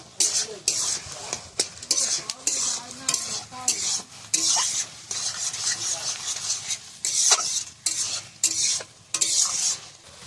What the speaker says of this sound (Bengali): চিংড়ি মাছ ভাজা এবার একটু নাড়াচাড়া দিয়ে দেবো